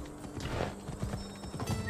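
A horse in Assassin's Creed Odyssey gallops with steady, rapid hoof clops under a dense game soundscape, continuous and fairly close.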